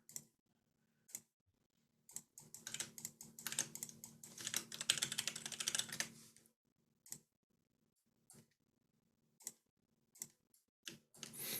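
Computer keyboard typing, a dense burst of rapid keystrokes followed by scattered single clicks and pauses, close and fairly quiet with no talking.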